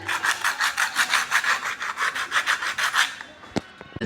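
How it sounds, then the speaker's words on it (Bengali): Sandpaper rubbed back and forth over bicycle brake parts in steady, even strokes, about a dozen close rasping passes that stop near the end, followed by a couple of faint knocks. "শীষ পেপার নিয়ে এভাবে ঘষে নিন, ভালো করে এই শীষ পেপার দিয়ে ঘষে নেবেন।"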